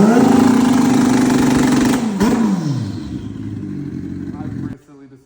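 Stretched turbo Suzuki Hayabusa motorcycle running loud and close, a steady idle that dips and settles lower before the engine cuts off abruptly near the end, with people talking nearby.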